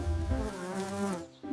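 A buzzing bee drones in a single continuous tone that wavers in pitch, close and clear, then cuts off abruptly near the end.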